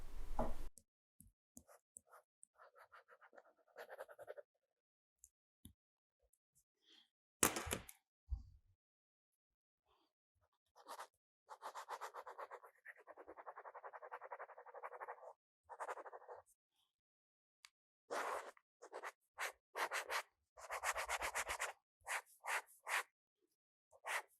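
Stylus nib scratching across the textured e-ink surface of a Remarkable 2 tablet, pressed a little harder than usual, in short bursts of close, dry scribbling strokes separated by pauses.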